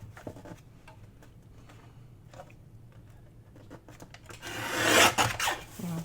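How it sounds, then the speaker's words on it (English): Scissors snip through a paper craft tag, a few quiet cuts followed by a louder, close rasping cut toward the end, with no talking. "Cut it off"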